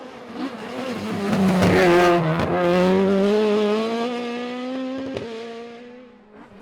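Ford Escort rally car on a stage of the Galway International Rally, engine roaring loud and close as it passes, revs rising and falling through gear changes with a sharp crackle near the end, then fading away.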